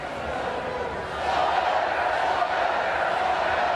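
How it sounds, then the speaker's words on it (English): Baseball stadium crowd at a Boston Red Sox vs Minnesota Twins game keeps singing a song into the bottom of the eighth inning, a broad, steady roar of many voices that swells slightly partway through. "So after they stopped the music, the crowd just kept going right into the inning."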